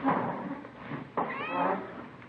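A Siamese house cat named Pepper meows indoors in a quiet home: two drawn-out, wavering meows, close and clear, with a short pause between them.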